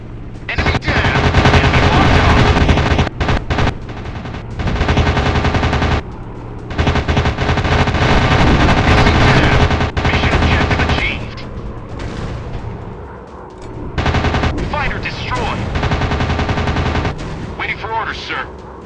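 Aircraft machine guns fire in an air combat video game, with loud, dense, sustained bursts broken by short pauses and with radio-style voices talking underneath.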